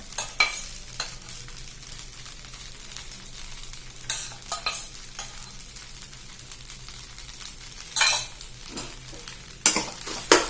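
Idly upma being stirred in a pan with a utensil: scraping, clinking strokes come in bursts over a low background sizzle, close up and without voices.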